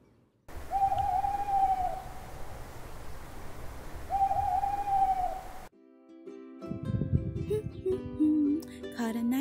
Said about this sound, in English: You are an owl with talons and feathers and live in a tree.